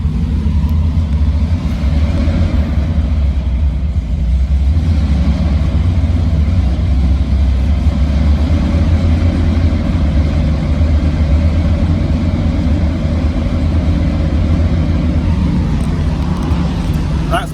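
A heavily modified Aston Martin stunt car idles with a steady, loud, low engine rumble that holds evenly from start to finish.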